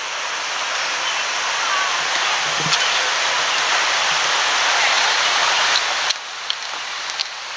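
A small creek at Indian Springs State Park flows past in a steady, close, rushing wash of water, with a few faint knocks near the end.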